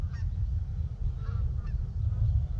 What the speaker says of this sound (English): look at those geese, where are they going?